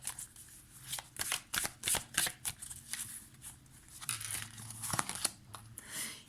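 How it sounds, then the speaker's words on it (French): Cards for a card reading are shuffled at close range with rapid riffling flutters and crisp snaps, then drawn with slides and soft taps. The sound is continuous and fairly quiet, with no voice. "On va aller prendre 3 cartes."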